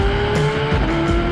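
A Porsche with a PDK gearbox drives along, its engine a steady close drone with tonal whine and brief bursts of tire noise, loud and continuous with no talking.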